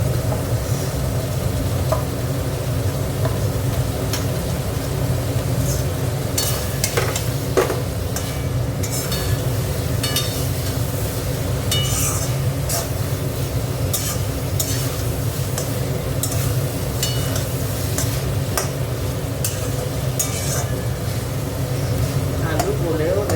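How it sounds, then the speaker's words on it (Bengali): Potatoes fry with spice paste in a pan, a steady close sizzle throughout, broken by scrapes and clinks as they are stirred, with a voice speaking at times over the cooking. "আলু গলেও যাচ্ছে ভাজতে ভাজতে"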